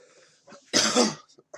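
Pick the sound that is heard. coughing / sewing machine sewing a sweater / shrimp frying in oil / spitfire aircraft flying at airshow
coughing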